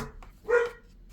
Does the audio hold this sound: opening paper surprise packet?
no